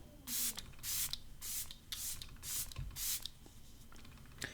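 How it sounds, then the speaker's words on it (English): Several quick bursts of a setting spray mister onto a face, about six short hissing puffs in a row at a steady pace, close up and fairly soft. "I am going to go ahead and spray one more time"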